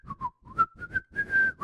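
A person whistles a short rising and falling tune in several clear, close, sustained notes, imitating Willem Dafoe's whistling character in The Lighthouse.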